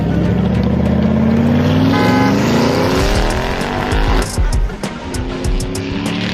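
A jeep pulls away with a loud, rising engine roar that sweeps upward in pitch, then gives way to rumbling, crunching tyre and road noise as it drives off, close and alone with no voices.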